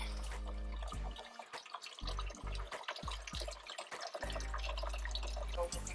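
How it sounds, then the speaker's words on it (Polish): Waste water draining from a grey water tank under a trailer, dripping and trickling in uneven spurts with a steady low hum beneath, fairly faint and close. "Zbiornik z szarą wodą pod przyczepą. Woda spływa."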